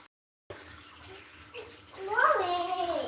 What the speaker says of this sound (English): Look at how she rinsing them off.